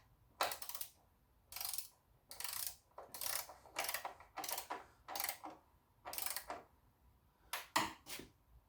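A hand ratchet tightens the valve cover bolts on a BMW, giving about a dozen short bursts of quick clicking pawl sounds separated by brief pauses, close and clear in a quiet space.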